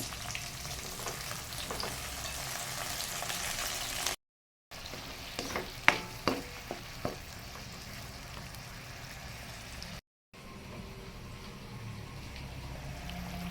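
Sardines with malunggay and saluyot frying in a pan: a continuous bright sizzle, broken by two brief gaps and a cluster of sharp clinks and stirring scrapes near the middle, with no talk.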